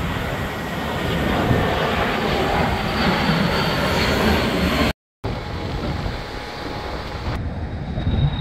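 Loud, steady roar of an airplane passing low overhead, a broad rumbling drone that continues throughout with a brief dropout.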